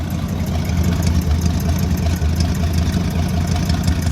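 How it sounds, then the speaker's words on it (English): An old dump truck's engine idles fast and steady at high RPM, a loud, continuous low rumble running the whole time with no voices. "It's a little bit high as far as RPM's concerned, in my opinion, but it's running strong."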